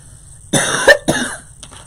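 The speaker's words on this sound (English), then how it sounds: "I don't know why I'm coughing." Two sharp, close coughs in quick succession, loud and isolated against a quiet background.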